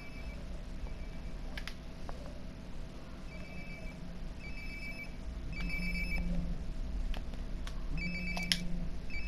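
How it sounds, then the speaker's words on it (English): A phone rings repeatedly nearby in the video game Life is Strange: Before the Storm, with electronic ringtone bursts repeating over a steady hum and no talking. "Sounds like my phone is definitely nearby."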